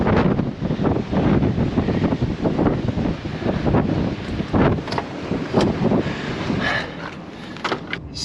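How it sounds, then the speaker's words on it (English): Strong gusting wind on an exposed mountain road near Mt Graham in a snowy blizzard, roaring and buffeting the microphone in loud, uneven surges, with a few sharper gusts and a slight easing near the end; no talking. "So the wind is pretty insane here."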